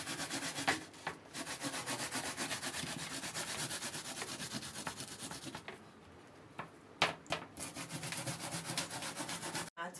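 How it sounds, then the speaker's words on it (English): Cocoyam (mboro) being grated by hand on a grater, a steady close scraping rub that runs almost continuously, with a brief lull and a few sharp knocks partway through. "You can use any type of grater and grate it."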